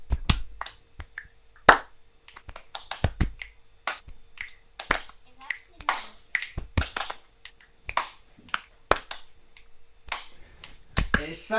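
Body percussion of finger clicks, claps and thumps played by a children's group in a rhythmic boom-boom-click pattern, sharp close transients repeating in a loose beat across the whole stretch with faint voices between hits.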